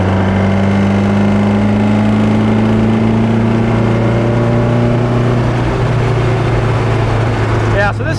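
Porsche 550 Spyder engine pulling hard under acceleration while driving, a loud steady drone with rising tones throughout, close and continuous with wind rush.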